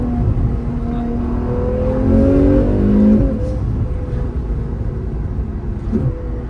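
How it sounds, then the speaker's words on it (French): A Ferrari 812 V12 engine revs loudly and close, its tone climbing through rising sweeps before settling back to a steady, rumbling idle. "Ah, le V12 Ferrari, il n'y a pas photo, hein. C'est une merveille."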